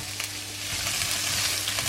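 Spices popping and sizzling in hot oil in a pan while cooking a vegan curry with onions, a steady close crackle with small pops scattered throughout.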